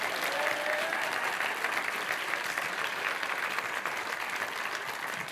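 An audience at the Famelab International Final 2018 in Cheltenham applauds, a dense, loud, sustained wash of clapping that holds steady before easing slightly at the end.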